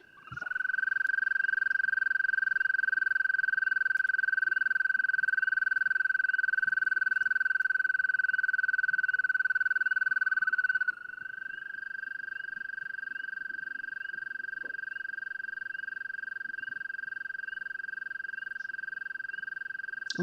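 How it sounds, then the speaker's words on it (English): A frog gives one long, steady, high-pitched trill that holds for about eleven seconds, pauses, then resumes at a slightly different pitch for the rest of the stretch, with faint spring peepers in the background. "So it's a long, high-pitched trill"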